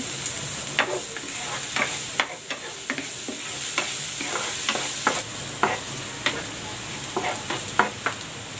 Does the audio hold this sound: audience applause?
no